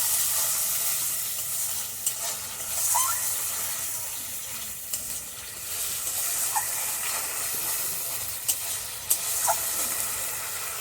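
Slit green chilies sizzle steadily in hot oil with spices, a continuous broad frying hiss with a few small pops and crackles, close and alone.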